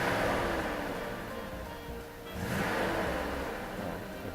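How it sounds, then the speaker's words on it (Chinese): A Mercedes W126 420 engine with a freshly repaired fuel distributor runs at idle, then swells louder as the throttle is pressed, a dense, close mechanical roar that dips and builds again. "我现在加一下油"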